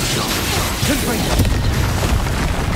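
Confringo spell blast in the Hogwarts Legacy video game, a booming burst with a whooshing crash over busy game noise.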